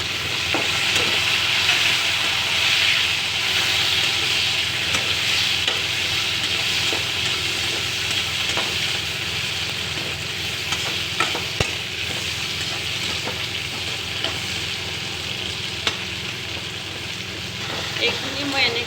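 Potatoes and tomatoes sizzle and fry steadily in a pan for an Assamese fish curry, with occasional stirring scrapes over a continuous, fairly loud hiss.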